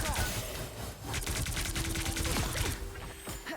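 Rapid bursts of primary-fire gunfire from Emma in the video game Pressure, a dense, continuous volley of shots at steady loudness filling the clip, with a brief thinning toward the end.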